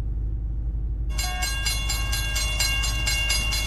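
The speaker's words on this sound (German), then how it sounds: "Diesel-Triebzug-Lokomotive" A diesel multiple-unit train in the Zusi 3 train simulator drives along the Vogtlandbahn line, giving a steady low engine rumble with rhythmic rail clatter and a brief tonal note, with no talk.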